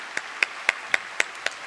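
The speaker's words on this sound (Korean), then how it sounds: "다시 한번 함께 박수로 하나님께 영광 돌리겠습니다" A church congregation at an autumn special dawn revival service claps in praise, heard as six sharp, evenly spaced claps that sound more like a single pair of hands than a full crowd, fairly faint with no talk over them.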